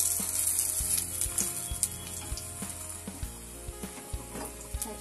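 An eggless market-style Mughlai paratha fries in a little oil, giving a steady close sizzle with scattered crackles and light pan taps throughout.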